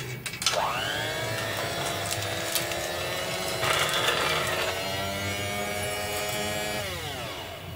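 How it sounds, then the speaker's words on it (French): A restored Temco Hot'n Fresh coin-operated popcorn vending machine on a test stand runs steadily, its motor whirring and rising in pitch through the dispensing cycle with clicks and rattles, alone and close by. "Et la machine distribue une dose de pop-corn."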